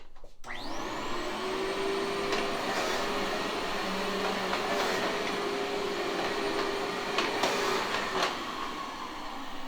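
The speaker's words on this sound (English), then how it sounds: "Pardon the noise, but I will vacuum this up real quick." A vacuum cleaner starts up and runs steadily over peel-and-stick carpet tile with a loud, continuous whine and roar, its pitch shifting slightly as it moves.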